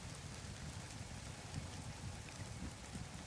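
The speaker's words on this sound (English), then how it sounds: "I love the rain effect that we can hear right now" Steady rain falls in No Man's Sky on a floating island base, a dense even hiss of drops over a soft low rumble, quiet and continuous throughout with no voices.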